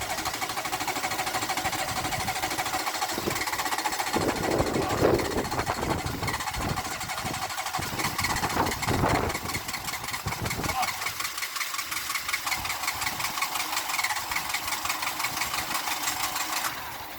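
A Renault Clio engine cranks in several rough bursts on hairspray, then catches and keeps running with a loud, steady, rattling idle.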